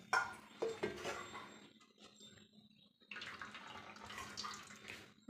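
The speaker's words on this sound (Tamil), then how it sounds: "தண்ணி பச்சை தண்ணி ஊற்றிடுங்க." Cold water splashes and pours over drained noodles in a pot or strainer, with faint metallic clinks of cookware; two bursts of pouring separated by a quieter moment.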